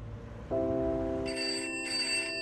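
A telephone rings in a 1969 London setting, a steady electronic bell tone that starts abruptly and holds, joined by a brighter higher chirping layer, clear and alone with no voices.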